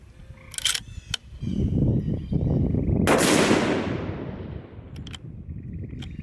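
A Ruger M77 Mark II rifle in 22-250 firing factory ammunition gives a single loud, sharp report that decays into a long rolling echo, preceded by quieter handling clicks and followed by faint mechanical clicks.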